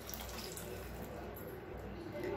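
Water poured from a tumbler into rice for a Tamil variety rice dish, a continuous close splashing pour that runs steadily throughout.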